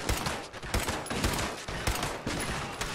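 Gunfire in Fallout 76, rapid bursts of loud, close shots cracking in an irregular rhythm, several volleys in quick succession with a dense, echoing texture.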